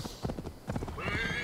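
A horse in Assassin's Creed Valhalla clip-clops along in quick, rhythmic hoofbeats, then gives a short neigh near the end; no talking.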